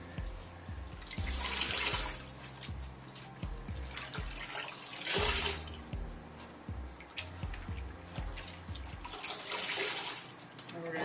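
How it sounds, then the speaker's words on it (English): Washing water from a human hair wig drains out of a sink with a steady gurgling, trickling flow and repeated glugs, fairly faint and continuous. "And we're going to drain our water."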